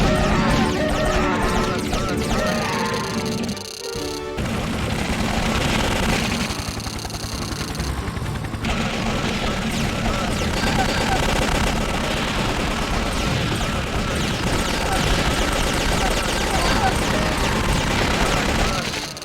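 Rapid Gatling gun fire in the 1999 video game Army Men: Toys in Space, a dense sustained rattle of gunshots and booms layered over game action, with a voice talking throughout.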